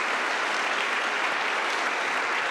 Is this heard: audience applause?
yes